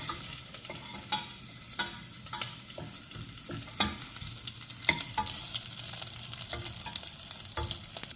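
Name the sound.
green chillies frying and being stirred in a pan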